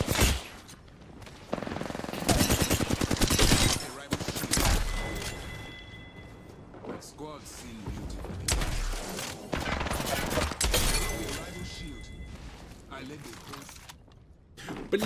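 Video game gunfire in an online shooter. Rapid bursts of automatic shots come in several volleys with short pauses between them, and someone speaks over the shooting.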